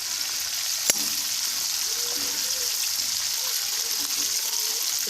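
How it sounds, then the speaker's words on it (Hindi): Fish heads fry in a pan with a steady, soft sizzle and bubbling hiss, one sharp clack near the start, mostly alone at close range. "फिर दूसरी साइड इनकी फ्राई कर लेंगे"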